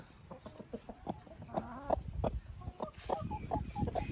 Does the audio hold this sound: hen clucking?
yes